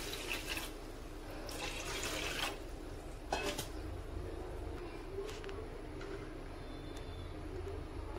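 Water poured into a cooking pan on a gas stove for pasta, a steady running, splashing pour with faint clatter of the pan, moderately close and mostly alone.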